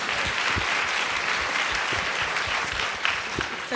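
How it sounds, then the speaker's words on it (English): Studio audience applause, a dense, steady burst of many hands clapping from start to finish, close and fairly loud, with a few sharper individual claps standing out. "Give him a round of applause"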